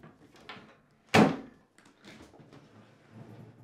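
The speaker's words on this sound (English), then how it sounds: "Stand the dishwasher back up and open the door." A single sharp thunk of a dishwasher door being opened near the listener, surrounded by quiet handling noises.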